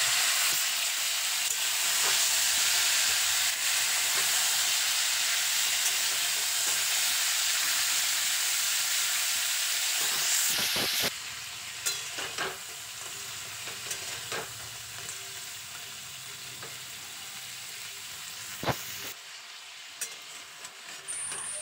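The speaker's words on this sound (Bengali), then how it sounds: "তেলটা গরম হয়ে গেলে কাঁকড়াগুলো তেলের মধ্যে দিয়ে কাঁকড়াগুলোকে ভেজে নেব" Sea crabs fry in hot mustard oil in a wok for crab jhal, with a loud, dense sizzle that drops to a softer crackle midway, broken by sharp stirring clacks.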